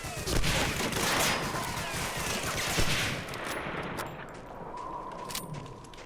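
Repeated gunfire in the World War II shooter Medal of Honor: Allied Assault, rapid overlapping shots and bursts crowding the first half, then thinning to scattered, more distant reports.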